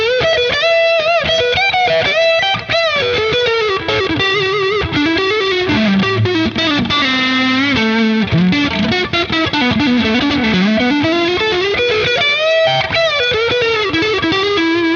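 Ibanez AZ electric guitar played loud with heavy distortion gain, fast lead lines and bends with a continuous sustained tone, no pauses or speech.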